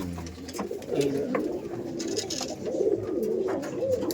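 Madrasi pigeons coo in soft, repeated throaty rolls close by, several birds overlapping in a steady low murmur throughout.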